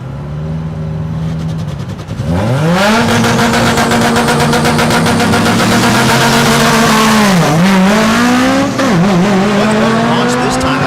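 Drag race cars roar off the line, a blue Subaru among them, with engines revving hard and rising through gears, loud and close, at a drag strip in Noble, Oklahoma.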